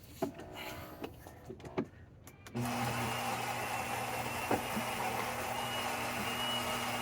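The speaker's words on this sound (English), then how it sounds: "The second one is basically going to calibrate that grinder, making sure that there's actually coffee in there" A Saeco Lirika espresso machine grinds and brews coffee, a few soft clicks giving way to a steady, loud mechanical whir that runs on unbroken, close by.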